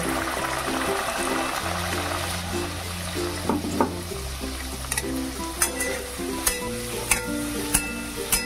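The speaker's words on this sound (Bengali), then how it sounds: "দেখো কি সুন্দর ফুলছে। এভাবেই আমি সব ভেজে নেব।" Stuffed pea kachori frying in hot oil in a kadai, a steady close sizzle with scattered sharp pops and spatters, while music plays underneath.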